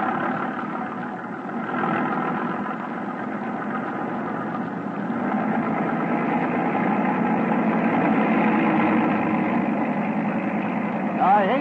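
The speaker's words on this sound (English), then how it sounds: "Macintosh, third engine, full throttle." A motor-boat engine at full throttle drones steadily and grows slightly louder, a continuous throbbing hum with a brief sharper sound near the end.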